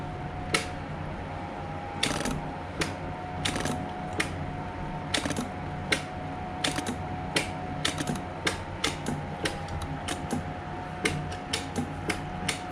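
Rapid, irregular mechanical ticking and clicking from the fuel pump of a Honda CBR 600 F4 motorcycle filling its carburetors sits over a steady low hum. It is close and moderately loud, with no voices.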